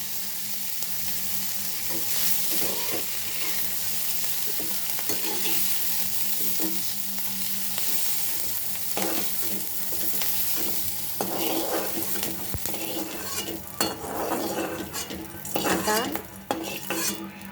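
Capsicum sabji is stir-fried in a kadhai, with a continuous sizzling hiss and repeated scraping and clinking of a spatula against the pan, growing busier toward the end.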